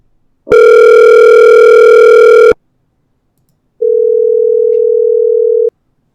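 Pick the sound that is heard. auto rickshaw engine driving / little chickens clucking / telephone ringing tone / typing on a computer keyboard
telephone ringing tone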